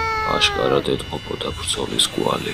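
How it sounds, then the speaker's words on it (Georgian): A cat gives a drawn-out, wavering meow with a few short follow-up cries, close and clear, while a narrator speaks over it. "შემომხედა და ისევ დაიკნავლა"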